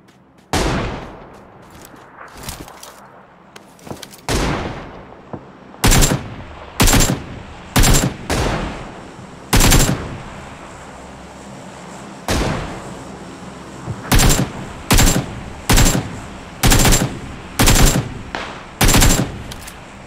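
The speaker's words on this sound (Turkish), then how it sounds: "Dur, silah sesleri geliyor, dur." Gunfire in an online shooter video game: repeated bursts of automatic fire and single heavy shots, loud and sharp, spaced in irregular volleys over a low rumbling background, with no talk.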